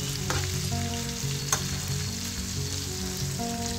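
Onion pieces and curry leaves frying in a pan for a Telugu cucumber-peanut curry, a steady close sizzle with faint stirring clicks throughout.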